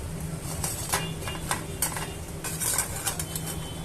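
Mirchi bajji fritters are lifted out of hot oil onto a plate with a metal utensil while the stove sits on low. Light, close clinks and scrapes repeat irregularly over a steady background hiss, with no speech.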